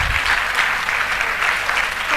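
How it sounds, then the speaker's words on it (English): Loud, dense audience applause at a college launch event for an engineering education program, continuous clapping close and steady for the whole moment with no speech over it. "With a big round of applause."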